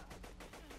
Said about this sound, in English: Shoot him with your sniper rifle. I sniped him in the head.